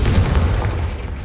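The Confringo blast spell in Hogwarts Legacy explodes with a heavy, booming rumble that fades over about a second.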